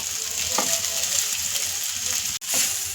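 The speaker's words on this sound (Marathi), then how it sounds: "हे बघा भोपळा आपण व्यवस्थित परतून घेतलाय।" Grated red pumpkin fries in oil in a pan, a steady close sizzle with faint stirring scrapes, one brief dropout near the end.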